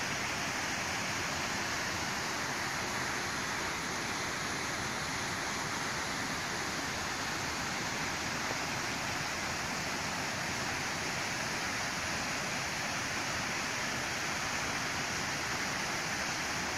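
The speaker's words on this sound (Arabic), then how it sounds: "هادو كيف ما تشوفوا شلالات من الفوق" The Ouzoud waterfalls send up a steady, continuous rush of falling water, an even broadband roar that stays constant throughout with no voices.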